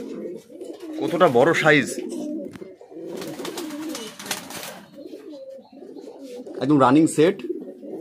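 Fancy pigeons in a breeding loft give close, loud, throaty coos in two main bursts with softer cooing between, while someone talks over them.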